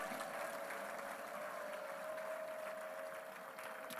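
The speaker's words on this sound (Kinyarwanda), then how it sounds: "Muhe Imana amashyi, Imana ishobora kubikora nonaha." Church congregation applauding during a sermon, a steady dense wash of clapping that fills the whole clip at moderate, even loudness with no speech over it.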